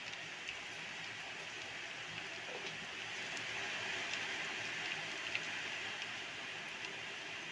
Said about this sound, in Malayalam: പുറത്ത് നല്ല മഴ ഉണ്ട്, കേൾക്കുമോയെന്നറിയില്ല.